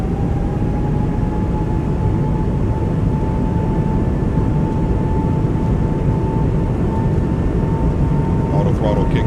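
Airbus A220 engines at takeoff throttle in a flight simulator, a loud, steady roar with a thin rising whine that holds unbroken from start to finish.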